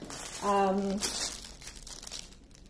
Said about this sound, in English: I'm going to open the crinkly plastic bag and just dump the drills onto the diamond painting